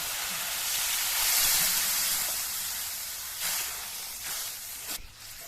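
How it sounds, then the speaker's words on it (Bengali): Water poured into sizzling fried spices in a pan while cooking rui fish kalia, a loud steady hiss and steam that swells, then gradually eases with brief crackles near the end. "মশলা আমার কষানো হয়ে গিয়েছে, এবার আমি জল দিয়ে দেব।"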